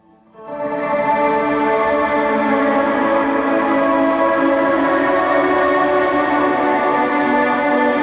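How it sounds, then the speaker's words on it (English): A sustained electric guitar wash from a pedalboard fades in and hangs steady, a smeared, reverb-drenched tone with no picked attack, loud and continuous. "it doesn't have any like attack on the guitar. It's just reverb wash."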